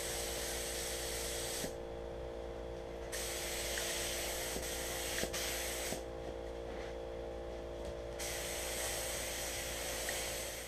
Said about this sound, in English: I'm going to go ahead and spray on another finish coat